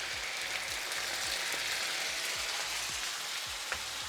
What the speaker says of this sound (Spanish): cuando la cebolla empieza a tomar color y a caramelizarse, agregamos el pulpo